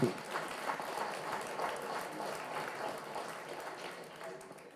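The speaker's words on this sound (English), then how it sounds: "give a round of applause for all the people that went behind to do all the research" A seated audience at a local history talk gives a round of applause for the researchers, a faint, steady wash of many hands clapping heard from a distance.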